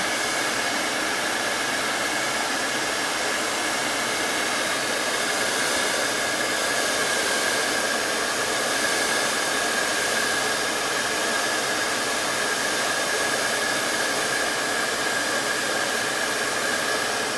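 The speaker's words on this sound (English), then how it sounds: "let's hit it with a blow dryer" A hair dryer blows steadily and loudly on a craft manger scene, a constant close-up whoosh with a faint high whine that runs the whole time without a break.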